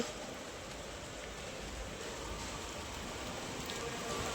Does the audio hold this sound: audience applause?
no